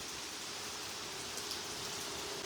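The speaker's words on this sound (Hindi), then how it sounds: "बारिश चेक करें जी।" Rain falls outdoors, a soft, even hiss of drops that holds steady throughout at a low level, with no voices.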